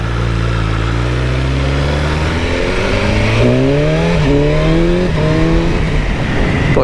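A BMW S1000R motorcycle engine revs loudly and continuously, its pitch climbing and dipping through quick throttle blips with exhaust pops, close up with a rough, rumbling exhaust.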